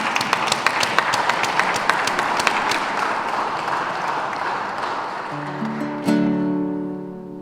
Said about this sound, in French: j'aimerais vraiment qu'on applaudisse très très fort pour ce grand homme